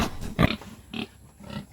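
Pigs in a farm pen give several short grunts and snorts in separate bursts, fairly close and loud, with no talk over them.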